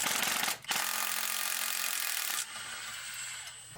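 A ratchet wrench spins engine bolts loose on a KA24DE engine being built for a Toyota Cressida, giving a close, steady rasping whir that breaks off briefly and then carries on a little quieter.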